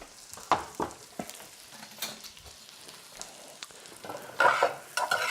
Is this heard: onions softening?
yes